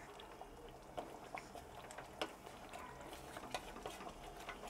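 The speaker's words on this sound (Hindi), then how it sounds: "हल्का सा चम्मच चला देंगे इस तरीके से।" A spoon stirs fish korma in a pan on the stove, giving faint, irregular soft clicks and scrapes over a low simmering hiss, with no talking.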